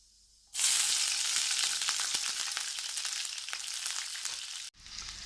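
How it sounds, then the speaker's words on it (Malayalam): Mustard seeds crackle and pop in hot oil after the sizzle starts abruptly, a dense, close spattering that continues steadily before briefly cutting off. "എണ്ണ ചൂടായിട്ടുണ്ട്, നമുക്ക് കടുകിട്ട് പൊട്ടിക്കാം. കടുക് പൊട്ടുന്നുണ്ട്."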